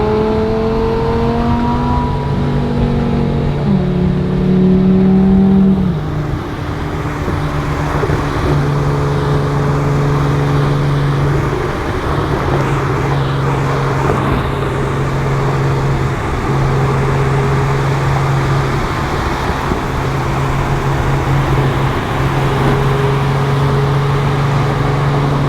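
A Bugatti EB110 Squadra Corsa drives down the road, its engine note steady and loud throughout, with a brief rise in revs early on before settling into a sustained cruising drone.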